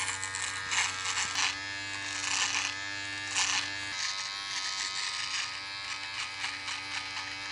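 A Panasonic rechargeable men's beard trimmer with a precision dial runs continuously with a steady, close electric buzz, its tone shifting slightly as it cuts through stubble; no one talks.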